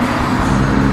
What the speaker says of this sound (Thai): เสียงรถ